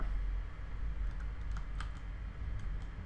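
Rapid, dense clicking of computer keyboard keys being mashed, with two keys hammered repeatedly while playing SuperHOT, close and steady for about three seconds without speech.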